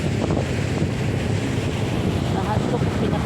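Strong wind buffets the microphone at sea aboard a boat, a loud, constant roar with wave and water noise beneath and no break.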